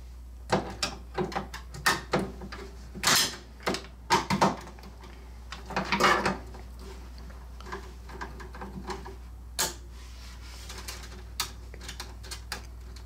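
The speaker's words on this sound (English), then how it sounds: "So we're just taking these four screws off, or nuts off, the speaker panel right now." Nuts come off the speaker panel of a Stern Spike 2 Star Wars Premium pinball machine: scattered close metallic clicks, taps and clunks, irregular, with a few louder knocks midway and quieter fiddling toward the end.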